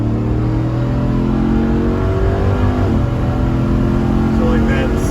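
A Dodge Ram TRX pickup truck, not yet warmed up and shifting oddly, roars steadily and loud from inside the cab as it accelerates, with its engine note climbing and dipping briefly at a gear change.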